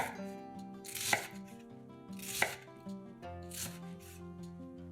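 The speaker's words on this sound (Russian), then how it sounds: "Разрезаем ее несколько раз на более мелкие кусочки." A knife chops through ready-made Korean-style carrots on a board, three distinct cutting strokes spaced about a second apart, heard softly over gentle background music.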